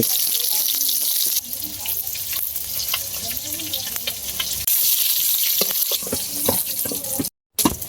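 Cumin and bay leaves fry in hot oil in a pan, giving a loud, steady broadband sizzle with occasional pops and crackles, a brief dip in intensity partway through and a short gap near the end.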